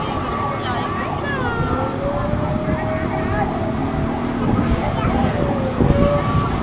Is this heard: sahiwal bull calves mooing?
no